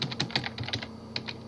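Quick bursts of computer keyboard typing, a dozen or so close, crisp keystrokes in an uneven rhythm with a short pause midway, no voices.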